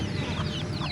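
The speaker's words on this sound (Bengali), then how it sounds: "দেখেন আমাদের এখানে মুরগি বাচ্চা" A mother hen and her chicks cluck close by in a farmyard, with a run of short rhythmic clucks and soft peeping over low background noise.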